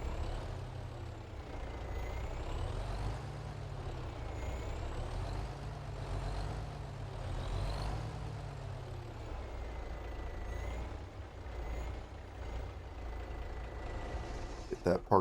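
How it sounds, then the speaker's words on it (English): A truck's diesel engine rumbles steadily while it is parked on a Texas farm in Farming Simulator 25, with a short burst of air brake hiss and clicks at the very end and a voice talking over it. "I'll get the truck parked right here real quick"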